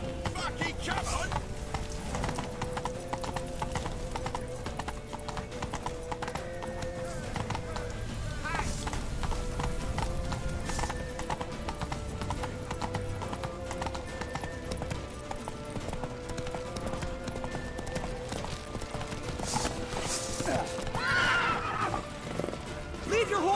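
Horse hooves clip-clop steadily with occasional whinnies in The Witcher 3 (Polish version), over a constant background of game noise and music, with voices talking at times.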